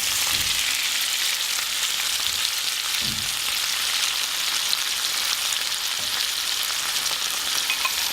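Tomatoes frying in a spicy puttanesca sauce with olives, chili and capers give a steady, close sizzling hiss, with a few soft stirring knocks spread through it.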